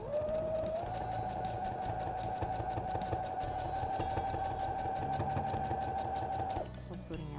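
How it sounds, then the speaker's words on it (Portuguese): A sewing machine runs a light straight stitch close along the edge of fabric, a loud, steady rapid whir held for several seconds before stopping, with no talk over it. "Vou fazer uma costura bem de leve, tá? Bem ali na beiradinha mesmo."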